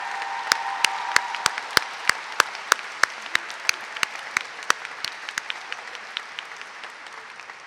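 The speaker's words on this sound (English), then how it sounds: "can we just have another round of applause for the class of" A graduation audience applauds the class of 2019 in a hall, clapping steadily with a few distinct sharp claps standing out, then fading gradually.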